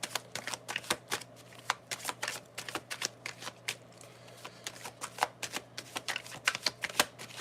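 Tarot cards being shuffled by hand, a steady run of crisp close riffling snaps and flicks over a faint low hum, with no talking.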